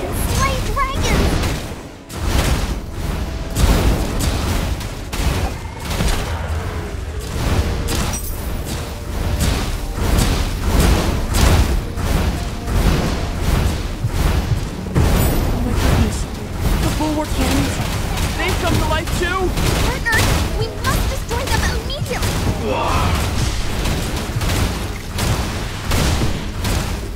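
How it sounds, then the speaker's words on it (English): A bulwark cannon fires in the Torchlight: Infinite video game as a dense, loud barrage of booms and gunfire-like blasts. It rolls on continuously amid game music and effects. "A bulwark cannon!"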